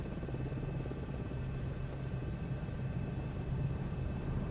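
A helicopter straining at high altitude in a flight simulator game on the way to Mount Everest, giving a steady low rotor and engine rumble that holds constant and fairly loud throughout, with no voices.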